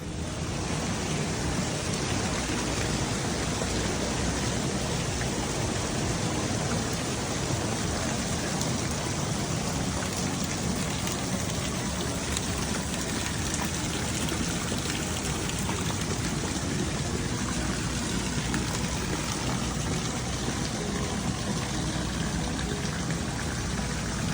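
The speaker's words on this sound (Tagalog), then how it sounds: "Ulan na. Ulan na." Rain pours down steadily in a dense, even hiss that stays loud and unbroken throughout.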